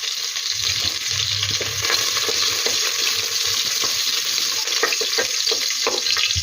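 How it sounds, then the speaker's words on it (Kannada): Sliced onion and curry leaves frying in hot oil inside a pressure cooker, a loud, dense, unbroken sizzle with small crackles and spoon clicks scattered through it. "ಎಣ್ಣೆ ಸ್ವಲ್ಪ ಬಿಸಿ ಆದಮೇಲೆ ಒಂದು ಈರುಳ್ಳಿಯನ್ನು ಕಟ್ ಮಾಡಿ ಹಾಕ್ಕೊತಾ ಇದ್ದೀನಿ"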